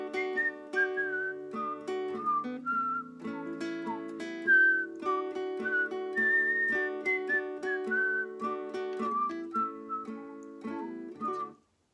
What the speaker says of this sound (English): I'm gonna whistle it, see if you can guess it